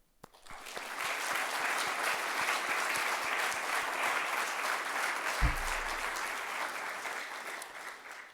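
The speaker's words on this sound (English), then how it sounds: "join me with a round of applause for That's Who We Are" Sustained applause from a large audience at a New Year's business reception in Luxembourg, loud and steady for about eight seconds with dense overlapping claps, one brief low thump near the end.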